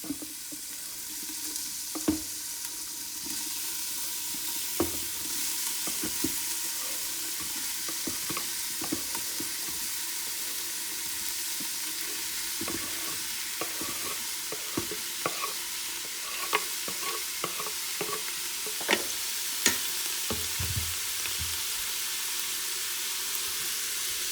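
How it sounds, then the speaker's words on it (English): Onions, ginger and garlic sauté on the hot saute setting of an Instant Pot for vegan curry, a steady close frying hiss with scattered light stirring taps throughout, no speech. "And the Instant Pot, it does get pretty hot on the saute option."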